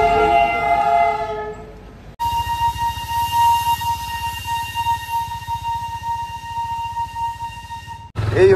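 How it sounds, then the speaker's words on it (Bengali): The Darjeeling toy train sounds a long, tonal horn blast at Ghum railway station, then chugs past with a rhythmic rumble, a second horn cutting in at the end. "টয় ট্রেন চলে যাবে দার্জিলিং।"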